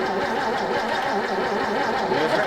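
An engine cranks over repeatedly without catching, a loud, close, continuous rhythmic churning of the starter with no firing.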